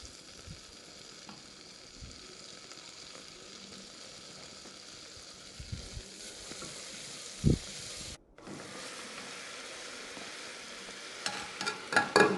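Chopped onions with tomato sautéing in a pan for egg curry give off a quiet, steady sizzle, with a few soft utensil knocks and clinks rising near the end.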